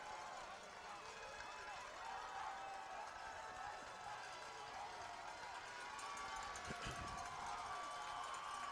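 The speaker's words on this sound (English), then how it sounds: "Third and 2, crowd making some noise." Crowd noise at a high school football playoff game, a steady loud roar of voices and cheering filling the stadium throughout, with an announcer talking over it.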